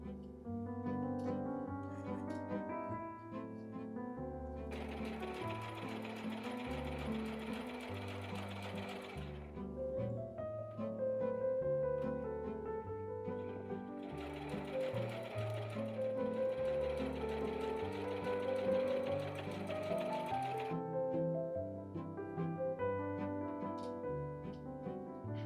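A sewing machine stitches a drawstring shoulder bag along a 7 mm seam allowance, its steady rapid needle chatter running in two long bursts over quiet background music.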